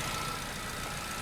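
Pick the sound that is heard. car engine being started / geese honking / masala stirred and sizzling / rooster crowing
car engine being started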